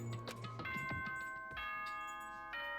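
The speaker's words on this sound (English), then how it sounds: "Just bell noises." A chiming bell announcement from the Danganronpa school intercom rings out in several sustained, layered tones that ring over one another and hold steady, with no voices.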